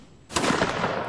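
Musket volley gunfire in a line battle video game, a sudden loud crash of massed shots that keeps rumbling and crackling as more muskets go off, with no talk over it.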